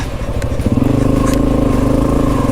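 A Honda CRF250F dirt bike rides along a trail, its single-cylinder engine loud and close with a steady, throbbing pulse that rises slightly in pitch.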